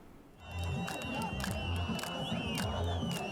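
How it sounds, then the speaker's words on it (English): A jubilant street crowd in Damascus celebrating, a dense roar of many cheering and shouting voices with rhythmic chanting, fairly close and loud, with sharp whistles cutting through. "Jubilant crowds flooded the streets of Damascus on Tuesday after US President Donald Trump announced the lifting of sanctions on Syria"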